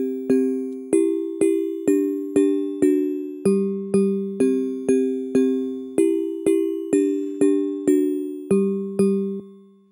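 Mallet synth layered with Ableton's Bell's Glass preset plays a steady run of bright, ringing bell-like notes, each struck note decaying quickly before the next, with rich shimmering overtones and no voices.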